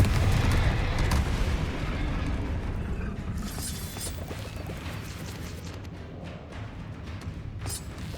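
Rumbling magical blast explosions from a Confringo spell in Hogwarts Legacy, loud and sustained with a heavy low boom that slowly fades, dotted with crackling bursts.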